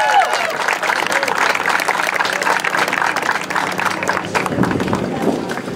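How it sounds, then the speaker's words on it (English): A crowd at a Relay for Life event gives sustained applause, a dense, even roar of clapping with some voices mixed in, steady throughout. "give a round of applause to them for coming out today"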